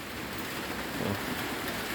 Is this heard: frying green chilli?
no